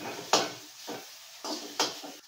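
Nalleru stems stirred in a pot over a fire, four or five scraping clanks of a utensil against the metal with quiet gaps between, close and fairly faint.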